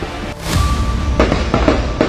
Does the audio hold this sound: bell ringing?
no